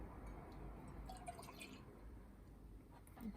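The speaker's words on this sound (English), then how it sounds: "I'll just fill that up to the minimum level in the jug" Semi-skimmed milk poured into a frothing jug up to the minimum level, a soft steady liquid stream with faint dripping and splashing, close and quiet, no talk.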